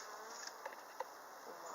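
Honey bees on a hive's inner cover give off a faint, steady buzzing hum outdoors during a spring inspection, with a couple of soft taps or clicks.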